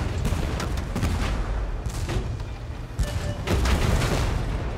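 Gunfire and cannon blasts in the tank combat video game Tank Force: a dense, moderately loud barrage of booms and cracks with a steady rumbling background, several heavier impacts standing out, no talk.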